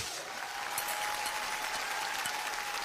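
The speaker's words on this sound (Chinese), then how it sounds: "来，我们掌声响起来" A studio audience claps steadily and loudly throughout, a dense wash of applause introducing a Shandong kuaishu storytelling performance on a Chinese talk show.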